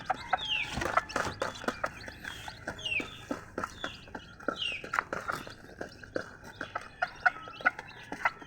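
Backyard poultry farm with hens clucking, chicks peeping and fowl calling in irregular bursts, fairly close and moderately loud, no talking heard.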